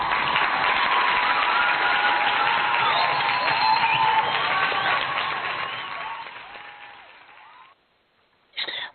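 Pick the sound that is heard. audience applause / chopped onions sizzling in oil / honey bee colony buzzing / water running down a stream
audience applause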